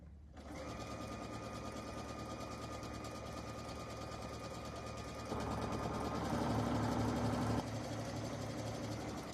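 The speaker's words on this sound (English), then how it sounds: "And we are going to stitch using 1/4 inch." A sewing machine runs steadily, stitching a quilt panel with a quarter-inch seam, a continuous mechanical whir that grows slightly louder and faster partway through, then eases back.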